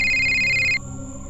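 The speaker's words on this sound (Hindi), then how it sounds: "ओह, मेरे बॉस का फोन है।" A telephone rings in a dark, deserted outdoor spot, a loud steady electronic ring lasting under a second before cutting off, leaving faint background hum.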